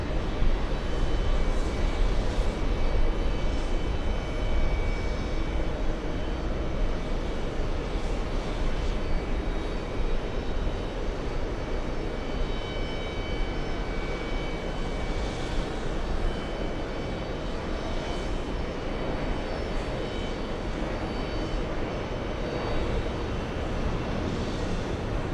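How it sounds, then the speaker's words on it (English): A big Boeing 777 freighter produces a steady, moderately loud jet engine roar, a continuous broadband rumble holding level throughout with slight swells. "big 777 freighter."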